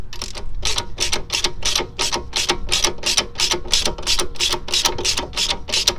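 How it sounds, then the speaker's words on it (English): Close, rapid ratchet clicks from a wrench turning an 18 mm socket while snugging a sway bar end link nut, a steady run of about twenty evenly spaced pawl ticks with no talk. "I'm using an 18 mil socket here. Just gonna snug it down a little bit."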